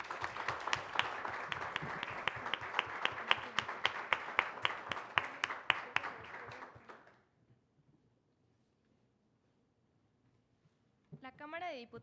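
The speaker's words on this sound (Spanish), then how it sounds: "Brindémosle un fuerte aplauso" Applause at a forum in a Mexican legislative chamber, a mix of sharp individual claps and broad crowd clapping for about seven seconds before it stops. A voice speaks near the end.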